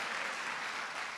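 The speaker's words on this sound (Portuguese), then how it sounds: "Levanta um aplauso àquele que vive." Church congregation applauding during a Portuguese-language worship service, a dense steady wash of clapping hands filling the room throughout, with no voices over it.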